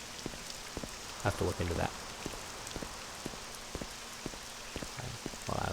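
Steady rain pattering in the game Morrowind, a constant hiss with scattered drop clicks, continuing under a man's brief speech.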